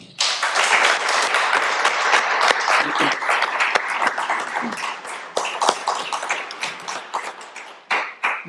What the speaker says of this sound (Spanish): Un gran aplauso para Hugo, por favor.